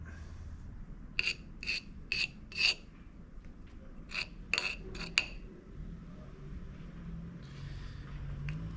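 Jointer/surface planer cutters being honed by hand: a series of short, bright scraping rasps in two quick bursts, metallic and close, with quiet pauses between strokes.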